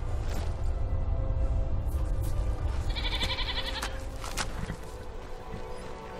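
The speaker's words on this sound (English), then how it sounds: "Aww, a baby goat." A baby goat in the Skyrim video game bleats several times at a farm mill, short wavering cries heard over ambient game sound with footsteps and soft noise.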